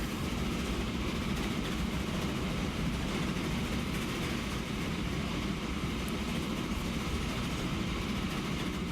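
A train runs in the Transport Fever video game, giving a steady, even rumble and hiss that continues throughout with no talking.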